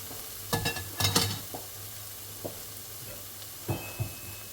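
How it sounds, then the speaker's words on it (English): Vegetables cooking in a pan after beef has been browned, a soft low sizzle broken by a few clanks and scrapes of a utensil, close and fairly quiet. "in the same pan I'm going to cook my vegetables"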